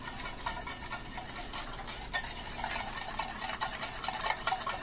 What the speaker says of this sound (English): We'll whisk that up.